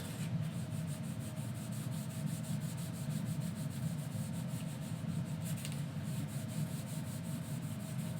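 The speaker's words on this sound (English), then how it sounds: "So I've just got some surface wax that I'm going over this." Surface wax rubbed by hand over freshly painted wood for a tulip wreath, a steady, continuous soft scrubbing close by, with no talking.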